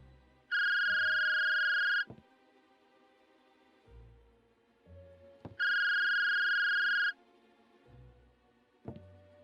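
A phone lying on the floor in a video game rings in two loud electronic bursts a few seconds apart, with quieter game thumps and clicks in between.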